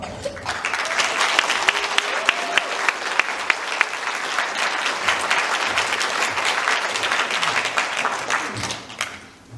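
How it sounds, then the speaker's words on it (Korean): Wedding guests clap and cheer at the start of a ceremony at Seoul National University. Loud, sustained applause fills the hall with bright, crisp claps for about nine seconds, then fades out. "성스러운 결혼식을 여러분의 큰 박수와 환호성으로 시작하겠습니다."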